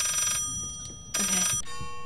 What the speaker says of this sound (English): Wait, the phone sounds normal now.